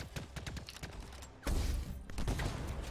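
Sniper rifle shots in the video game Anthem, a loud burst of gunfire with a sharp impact midway, close and busy with mechanical clatter.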